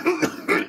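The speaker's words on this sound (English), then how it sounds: "I apologise for my coughing." A short bout of coughing and throat clearing, two rough bursts close to the mic, during a telescopic ladder repair.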